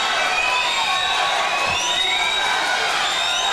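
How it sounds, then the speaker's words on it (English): Fans cheer steadily in the stands at a men's and women's conference swimming championship at the Kingsport Aquatic Center. The crowd roar stays broad and constant throughout, with no clear speech over it. "Fans are cheering them on here at the Kingsport Aquatic Center."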